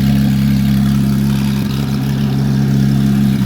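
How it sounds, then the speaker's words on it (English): Loud, steady engine drone with a deep exhaust rumble, constant and close throughout as a sports car idles high after a cold start. "the cold starts are so fucking loud"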